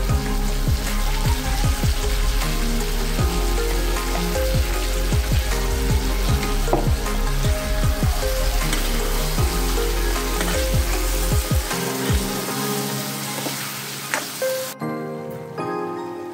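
Ground masala paste for a prawn and potato curry frying in oil in a pan, loud continuous sizzling and crackling close up, with scattered stirring scrapes before the sizzle drops away near the end.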